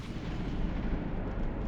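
A darkness cannon spell from a Minecraft magic mod fires in a dense, roaring blast, loud and continuous with heavy low rumble throughout, and no one speaks.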